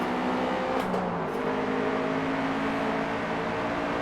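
A stock Toyota GR86 engine in a racing simulator hums at steady revs with a constant tonal drone and a little tire rumble, with no speech heard.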